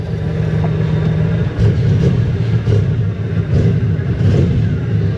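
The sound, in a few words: 1992 Cadillac engine revving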